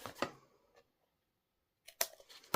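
Scissors trim excess paper from a handmade greeting card, giving a few short, crisp snips close by with a quiet pause between them.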